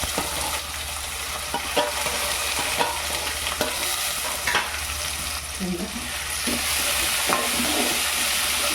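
Garlic, ginger and onion dropped into hot oil with bay leaf and cumin produce a constant close, dense sizzle, with light stirring taps scattered throughout.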